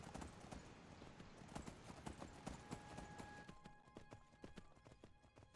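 A ridden Imperial Legion horse in the video game Skyblivion trots with a quick, regular clip-clop of hooves, heard faint and continuous throughout.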